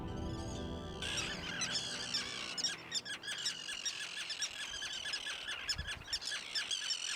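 Terns call in a dense chorus of high, rapid chirps and squeaks along a wild Croatian river, shrill and continuous as adults return with fish to their chicks.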